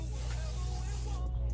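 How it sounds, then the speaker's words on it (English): A hair oil spray bottle gives one continuous close hiss of mist over a steady low background hum during a daily makeup routine, with no talking. "And spray."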